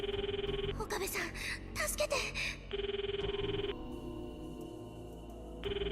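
A telephone rings at the other end of a call, heard as a repeated electronic trilling tone in three spaced bursts with a gap between, while a voice talks in between the rings.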